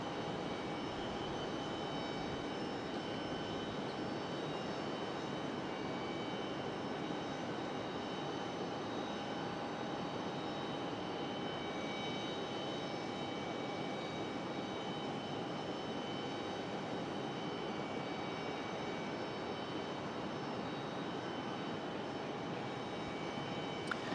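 Embraer E175 airliner passing near Raleigh Durham International Airport under cloudy skies, a steady distant jet roar with a faint whine held evenly throughout, no voices.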